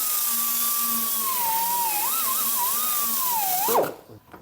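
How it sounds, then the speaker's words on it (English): A half-worn wire brush on a die grinder whines at a high, wavering pitch as it strips paint from an engine bay, then drops off abruptly near the end. "I have this nifty little half worn out wire brush on a die grinder"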